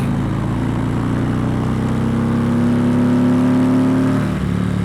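A Harley-Davidson Electra Glide with a pushrod V-twin engine revs up loud and close, its pitch climbing steadily before dropping back sharply near the end.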